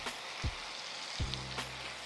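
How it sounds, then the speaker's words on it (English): Red wine simmers with steak bites in a pan, making a continuous soft sizzle and bubbling hiss, close and quiet, with a few small clinks and stirring touches. "just allow that to simmer for a few minutes"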